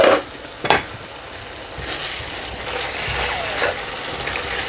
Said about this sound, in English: it's been 10 minutes that the masala has been cooking away